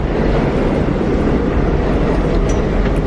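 A New York subway train near 34th Street Penn Station rumbles along with a dense, steady roar of wheels and rail noise, loud and continuous, with no voices.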